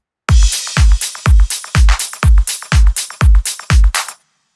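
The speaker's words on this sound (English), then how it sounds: "I've just got some drums coming out of Groove Agent 5." A punchy drum machine beat from Groove Agent 5: heavy kick hits with crisp snare and hats in a steady, even loop, loud and dry, then it stops.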